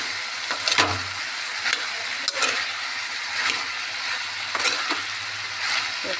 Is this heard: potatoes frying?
yes